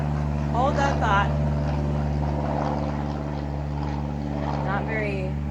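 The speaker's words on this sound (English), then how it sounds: "The sound of an airplane flying over" Steady engine drone of an airplane passing overhead, a sustained harmonic hum filling the background throughout as a person speaks over it.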